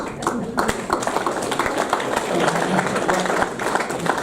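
A crowd at a football team reunion program applauds with steady, dense clapping that holds loud throughout, with some scattered voices mixed in.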